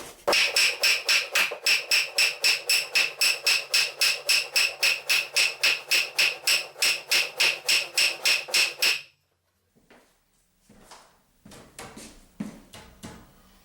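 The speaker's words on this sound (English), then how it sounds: "So now I'm gonna hit this bottom corner over until I get it perfectly square" A hammer pounds the bottom corner of a wall stud during removal of a load-bearing wall, a steady run of about thirty loud, evenly spaced blows that stops abruptly, followed by quieter knocks and shuffling.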